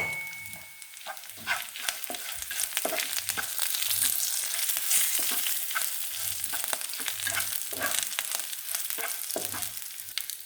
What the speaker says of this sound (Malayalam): ഇടക്കിടുന്നു ഉണക്കമുളകും വേപ്പിലയും കൂടി അതിലോട്ട് ഇട്ട് കൊടുക്കണം. ഉള്ളിയെല്ലാം നന്നായിട്ട് മുരിഞ്ഞിട്ടുണ്ട്